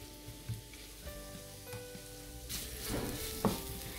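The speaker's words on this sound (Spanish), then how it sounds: "Vertimos las cebollas. Y esperamos que se doren." Onions frying in a hot pan for stuffed peppers, a steady moderate sizzle with faint stirring and a couple of sharper clatters, no voices.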